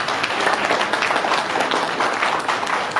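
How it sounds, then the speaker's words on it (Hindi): Enthusiastic audience applause at a health lecture, thick continuous clapping held at a steady loud level throughout, no voices over it. "उनके लिए बेशुमार तालियां हो जाए।"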